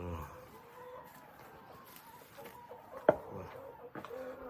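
Chickens cluck quietly in the distance at an Amish village farm in America, with a few soft calls and one brief sharp noise in an otherwise calm setting.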